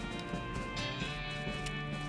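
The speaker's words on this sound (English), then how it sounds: "it gallops away with a whinny" Hooves of a galloping horse in the video game West of Loathing pound in a quick, steady rhythm, fairly close, over a constant background hum.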